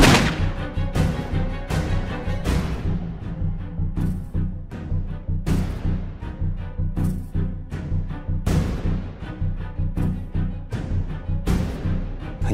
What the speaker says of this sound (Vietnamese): Hình như tiếng súng á.